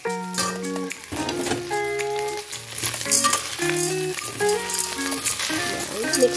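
Dry macaroni sizzles and crackles steadily in a hot pan as it is stirred while making sopas, a macaroni soup. The frying runs underneath prominent background music with clear melodic notes.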